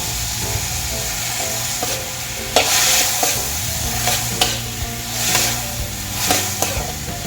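Tomato and black pepper stir-fried in a pan for ginisang upo with salmon: a loud, constant sizzle close by, broken by repeated scraping strokes of a spatula stirring, with no speech.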